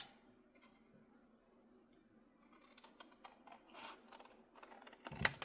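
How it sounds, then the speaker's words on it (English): Scissors cut through paper for a junk journal craft: a quiet stretch, then a run of crisp snipping and crunching clicks close by, with no talking. "And I'm going to cut it with my scissors."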